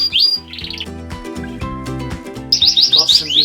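Young canaries chirp in a canary room, with bright, quick tweets in short bursts at the start and again near the end over a steady background of sustained tones.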